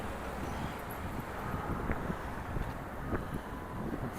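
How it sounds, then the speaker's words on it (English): Gusty wind buffets the microphone outdoors on a March walk in Regina, a steady broadband rush with occasional stronger gusts, loud and continuous with no voices. "Hopefully I can get out of this wind without getting any more grit in my eye"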